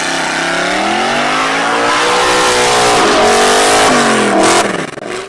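A sleek luxury sports car with an 8.2 V8 gas engine revs hard and steadily, its loud, close engine note rising and falling in pitch before cutting off abruptly at the end, with no talking.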